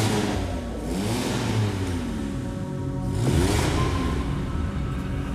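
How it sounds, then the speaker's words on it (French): A race car engine fires up and revs in a workshop, with two strong surging revs swelling and falling over a constant rough idle, loud and close, with no talk. "Quand mon moteur démarre pour la première fois dans ma voiture"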